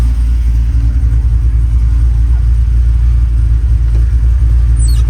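A car running with a newly installed Tremec TKX transmission, its tires spinning, makes a loud, steady low engine rumble close by that stays constant throughout, with no voices.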